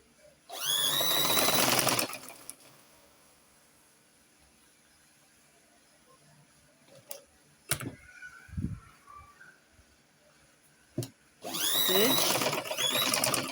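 A sewing machine stitching fabric in two loud rapid bursts, one at the start and one at the end, with a quiet stretch of faint handling noises and a brief voice between them.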